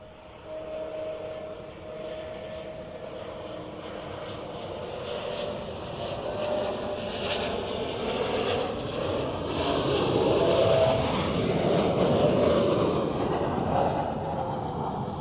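A Helvetic Embraer 190 arriving at Zurich Airport makes a steady jet rush that swells gradually, with a faint whining tone early on and a rising roar toward the end, heard on its own.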